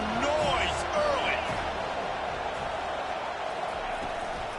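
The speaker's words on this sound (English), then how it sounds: "This crowd bringing the energy and noise early." Steady roar of a stadium crowd at a college football game between the Tar Heels and the Seminoles, a dense wash of noise with a few higher shouts standing out, loudest at the start and holding steady throughout.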